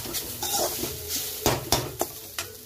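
A spoon stirs potato tikki stuffing in a pan, making a run of close metallic scrapes and clinks that grow sharper toward the end, over a faint sizzle, with no talking.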